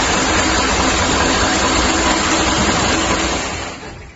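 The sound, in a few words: perfume mixing machine stirrer running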